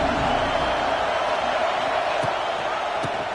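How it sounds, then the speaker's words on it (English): A football stadium crowd in a college football video game roars a loud, sustained welcome for the visiting team, with a commentator's voice faintly underneath. "This crowd bringing an ear-splitting welcome to their visitors."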